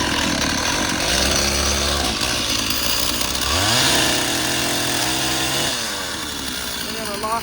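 A chainsaw saws through a limb on a tree hollowed by a honey bee colony, its engine droning steadily and rising in pitch as it bites into the wood, with people talking over the noise.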